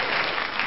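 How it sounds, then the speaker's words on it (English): A short burst of dense, steady clapping from a crowd, a brief round of applause with no voices over it. "give me a round of applause."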